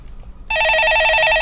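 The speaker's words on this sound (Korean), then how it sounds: "전화 받아보겠습니다" A telephone rings on a radio stock-advice call-in show, starting abruptly halfway through with a loud, steady electronic trill that continues to the end, following a moment of quiet room tone.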